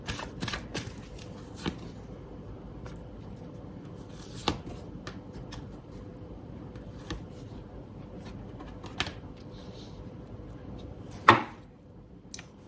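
Tarot cards being shuffled by hand in a quiet room: soft, papery riffles and taps recur in irregular bursts, with a sharper slap near the end and no voices.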